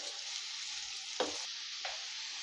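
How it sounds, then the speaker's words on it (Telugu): Ridge gourd pieces are stirred with a ladle in oil and ginger-garlic paste, giving a continuous bright sizzle broken by two soft scraping strokes of the ladle. "బీరకాయ ముక్కలు ఇట్లా ఆయిల్లో అల్లం వెల్లుల్లి పేస్ట్లో అంతా తాలింపులో కలిసేలాగా గరిటెతోటి ఇలా కలుపుకోవాలండి"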